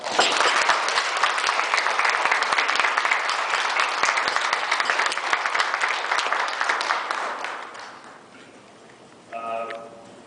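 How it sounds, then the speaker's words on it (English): Guests at a wedding reception applaud the newly married couple, a loud dense burst of clapping that slowly thins and fades, followed by a brief tonal sound at the end. "Let's give them another round of applause."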